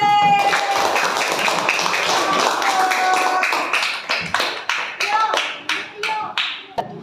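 A primary school class claps for group B after their report on making oral rehydration solution: steady loud group clapping that breaks into distinct rhythmic claps in unison toward the end.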